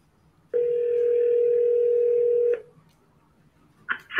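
A telephone call is dialed, a loud steady tone lasting about two seconds, then quiet, then brief clicks at the end.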